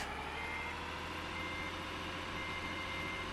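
Steady electronic reversing beeps from a Volvo truck in a truck simulator game, repeating evenly over a constant engine drone, with no talking.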